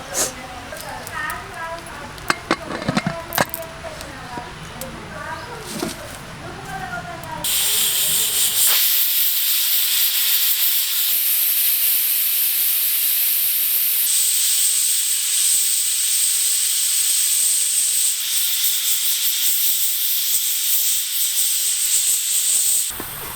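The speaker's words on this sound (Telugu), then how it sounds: "నాలుగు విజిల్లు వచ్చినాయి" Loud continuous hissing steam from a pressure cooker whistle while cooking mutton curry, steady and sustained after a short stretch of clattering and voices at the start.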